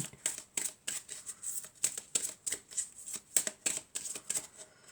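A deck of tarot cards shuffled by hand, a quick run of crisp riffling bursts at a steady, brisk rhythm, close and clear with no talking.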